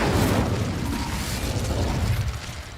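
Casting the Incendio fire spell in the video game Hogwarts Legacy gives a dense, loud whoosh of roaring flame that holds steady, then fades away slightly at the close.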